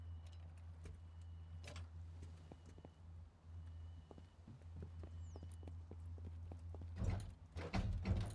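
Sparse hoof clops from a horse in a video game tap out at irregular intervals over a low, steady engine-like drone, ending with a few louder thuds.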